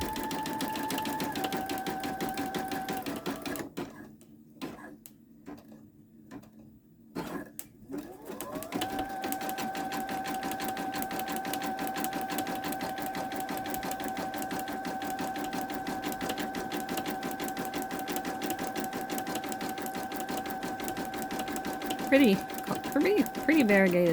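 Babylock Esante embroidery machine stitching a sunflower onto a towel with variegated thread: a rapid, steady mechanical whir and needle chatter, close by, with a brief pause in the middle before it resumes. A voice talks throughout.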